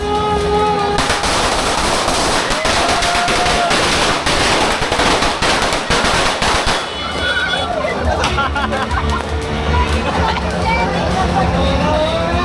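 New Year 2026 firecrackers explode across a neighborhood in a continuous, loud barrage of overlapping bangs and crackling bursts, like rapid gunfire, with voices shouting beneath the din.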